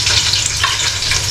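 Onion frying in a pan for ginisang upo, a sautéed bottle gourd dish, gives a loud, steady, close sizzle that runs unbroken through the short moment.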